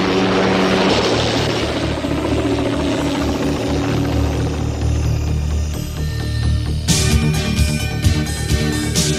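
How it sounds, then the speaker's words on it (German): A helicopter flies over the desert as a radio-play sound effect, a loud, continuous rotor and engine drone that shifts character near the end, with no voices. "Huckleberry Hawk und Dominic Santini fliegen in einem Hubschrauber der Santini Air über die Wüste."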